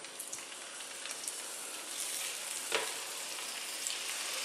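Fresh tuna medallions sear in a hot pan with a steady, close, broadband sizzle that builds slightly and holds, a brief sharper spitting burst rising midway, no voices.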